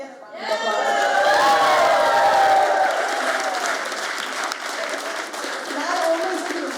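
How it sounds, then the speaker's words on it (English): Wedding guests break into loud, sustained applause with some cheering, the clapping swelling quickly and holding steady for several seconds before easing slightly. "Can we get a round of applause?"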